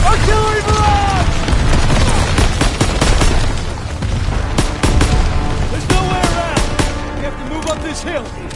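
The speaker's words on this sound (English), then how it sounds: "Artillery barrage!" Artillery barrage in the Call of Duty WW2 shooter: heavy booms and bursts of gunfire layered under shouting voices, continuous and loud, with a dense battlefield roar filling the whole stretch.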